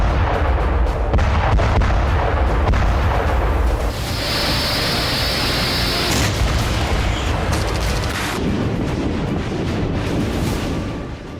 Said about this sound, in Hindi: मिसाइलों की बौछार हो रही है। यूक्रेन में हाहाकार मचा हुआ है।